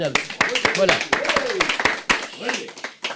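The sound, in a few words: audience applauding a model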